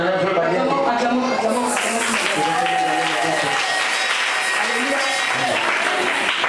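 A church congregation at a women's seminar breaks into loud, continuous applause and cheering, with voices calling out through the steady clapping.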